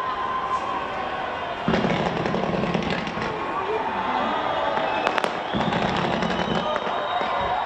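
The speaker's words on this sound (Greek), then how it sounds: "Η επίδειξη κράτησε 5 λεπτά με πυροτεχνήματα 500 κιλών να εκτοξεύονται από τον πύργο." New Year fireworks launch from Auckland's 328-metre Sky Tower, about 500 kg of pyrotechnics making distant, continuous crackles and popping bursts under a steady crowd-like roar, with a voice speaking over it.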